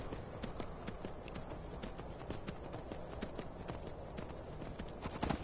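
Horse hooves clop steadily in Skyrim, a quick even rhythm of muffled beats that runs moderately loud from start to end, with a few sharper knocks near the close.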